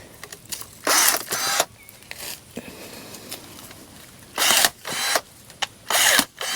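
Battery-powered pruners snip through branches about 1.5 to 2 inches thick in short, loud motor bursts with pauses between them, several cuts in quick succession.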